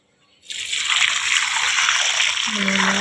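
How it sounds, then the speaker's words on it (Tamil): Water splashes loudly and steadily onto a potted chilli plant at a home garden, starting abruptly after a moment of quiet, with a tonal hum entering near the end. "வச்சு தண்ணியெலாம் ஊற்றிட்டோம்"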